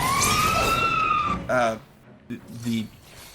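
A police-style siren from cyborg enemies in the video game Final Fantasy XIII, a loud, wailing electronic tone that slides in pitch, followed by short bursts of talk.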